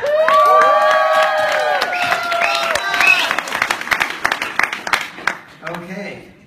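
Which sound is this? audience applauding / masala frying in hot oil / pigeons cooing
audience applauding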